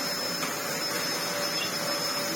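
A Hoover Purepower U3430 Wasp Edition upright vacuum cleaner with a worn belt runs steadily, a loud, constant motor whine and airflow hiss close by, without speech.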